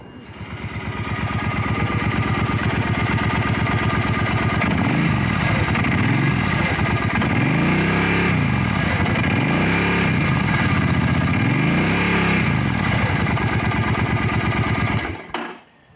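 Cruiser motorcycle with a stock, unmodified muffler runs steadily close by for about fifteen seconds, a throbbing loop of loping exhaust pulses that swell and ease in a regular rhythm before cutting off at the end.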